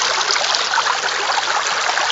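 Steady, close rushing of water pours over a gold sluice at a prospecting lease, forming a small waterfall with a continuous broadband splash and no break.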